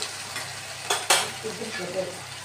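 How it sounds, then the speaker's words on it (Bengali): Water splashes into a pan of frying okra and potatoes with two sharp bursts, then a low sizzle and spoon stirring carry on, close and fairly loud, with no talking. "একটু জল এড করে দেবেন"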